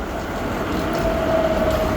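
A tram rolls along a street at night in Zagreb, its steady rumbling approach joined by a rising wheel squeal on the rails, fairly close and with no talking.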